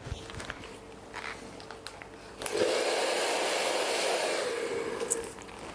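A handheld hair dryer blows over hair set in rollers, starting after a few soft handling clicks and then roaring steadily for about three seconds before cutting off, close and fairly loud.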